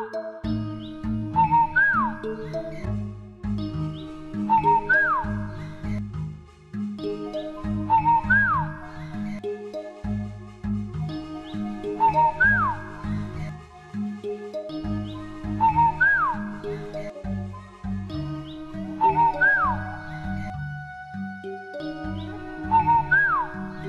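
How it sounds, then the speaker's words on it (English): A nightingale in an animated fairy tale sings bright trilling, whistle-like phrases that repeat every few seconds over steady, continuous background music. "The emperor was happy to hear the nightingale's song"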